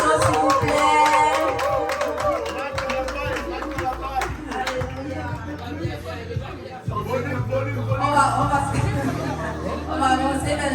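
Applause and cheering from a party crowd for Maman Dorine at her birthday celebration, steady and fairly loud, mixed with lively chatter and music over about ten seconds.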